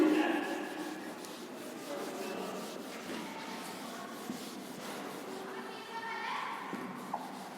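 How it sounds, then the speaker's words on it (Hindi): Writing rubbed off a board during a physics lecture on electrostatics, a steady scratchy swiping that runs for several seconds under a voice talking throughout. "मैं एक बार इसको रब कर देती हूँ"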